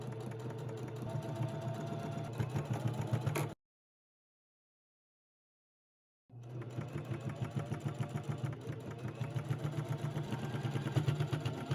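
A sewing machine top-stitches the folded flap of a pleated cargo pocket, running in a steady, fast mechanical chatter, pausing silently for a few seconds, then resuming at the same close, even pace.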